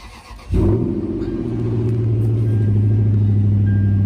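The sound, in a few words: V8 engine revving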